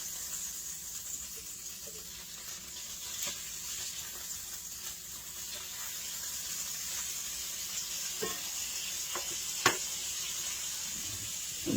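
Sausage sizzles in a pan with a steady, quiet frying hiss, broken by a few faint clicks and pops, with no talking over it.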